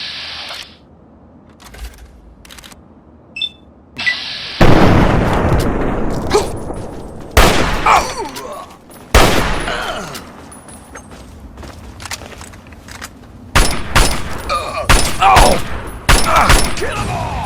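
Repeated gunfire in Fallout 3, with sharp broadband shots and bursts arriving in irregular clusters, some loud and close and others fainter. Shouting voices break in between the shots.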